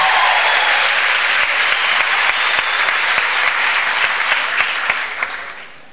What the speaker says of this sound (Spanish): No solamente me aplauden a mí, le aplauden a la libertad que ustedes defienden